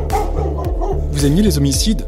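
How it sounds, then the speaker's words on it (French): A young black and white dog yips and barks in short bursts with whimpering tones, close and loud, while a person speaks over it. "C'est un chien noir et blanc."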